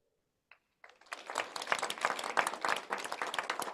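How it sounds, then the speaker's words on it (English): An audience at an evening panel dialogue session breaks into applause that swells quickly after a brief pause and holds as dense, steady clapping, moderately distant. "whom you can applaud for this dynamic session."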